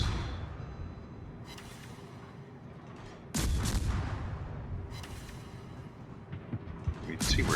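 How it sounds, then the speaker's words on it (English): Heavy battleship guns fire shells in a naval video game, with loud booming salvos near 1.5, 3.4, 5 and 7.3 seconds over a continuous low rumble of battle noise. "You saw where the shells landed."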